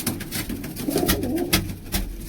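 Caged pigeons coo in soft low murmurs close by, with a few sharp knocks and rustles breaking in.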